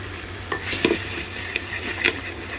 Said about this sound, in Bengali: এবার এক সাইডেই আমি ডিম দিয়ে দেবো, ডিমটা ওখানেই করে নেবো